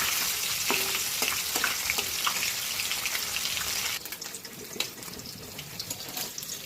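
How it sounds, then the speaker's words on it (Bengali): Rohu fish pieces frying in hot oil in a kadai, a steady close sizzle with occasional pops and crackles, quieter after a few seconds. "এরপর আমি কড়াইতে দিয়ে দিয়েছি মাছগুলো একে একে।"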